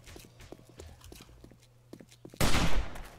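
Gunfire in the survival game 7 Days to Die: a short, loud burst of shots near the end, following quieter footsteps and faint background activity.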